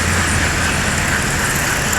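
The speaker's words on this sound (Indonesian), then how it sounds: "Bus medium lewat juga." Medium-size tour bus passing on a road amid steady traffic noise, a broad, continuous roar with no distinct peak, heard from the roadside.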